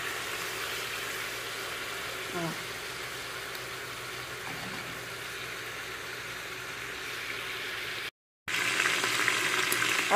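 Food sizzles and crackles steadily in hot oil in a pan, soft and even throughout, with a brief drop-out near the end.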